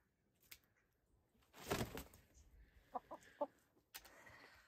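A chicken clucks during trimming of its primary flight feathers, giving a few short, sharp, close clucks after a brief flurry of rustling and flapping, fairly faint overall and without talk.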